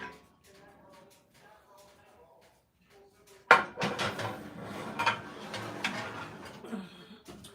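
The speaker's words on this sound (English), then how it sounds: "I'm going to also put this into the oven so that can cook also." A baking dish going into a kitchen oven: quiet clinks at first, then a sharp metallic clatter and several knocks and rattles of the dish and oven rack, with a voice talking at moments.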